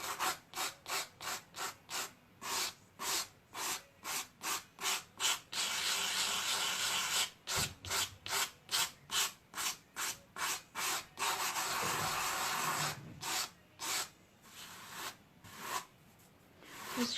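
An eraser rubs back and forth on dry watercolor paper in quick, rhythmic strokes, close and fairly soft, with a steady stretch of continuous scrubbing midway before the short strokes resume.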